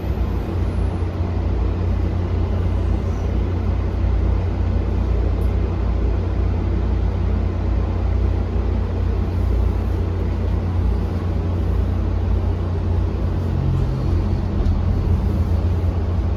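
Steady low rumble and rolling noise fill the interior of a DC Metro automatic train as it runs, continuous and even with no voices.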